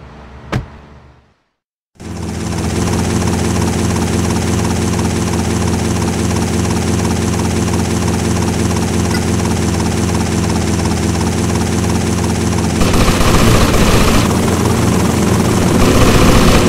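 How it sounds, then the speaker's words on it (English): A helicopter in the GTA: Vice City Stories video game gives a loud, steady, close rotor-and-engine drone that starts abruptly after a short click and gap, then shifts in texture near the end. "Take my copter."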